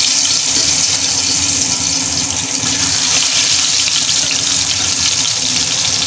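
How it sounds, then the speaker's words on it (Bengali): Hilsa fish, coated in salt and turmeric, frying lightly in hot oil, giving a constant close sizzle with a broad hissing crackle that holds level throughout with no talking. "একটু হালকা ভেজে নিচ্ছি।"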